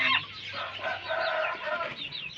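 Young standard Cornish chickens about a month old clucking and chattering together at close range, a busy overlapping stream of soft calls with no talking.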